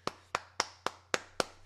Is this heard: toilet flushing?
no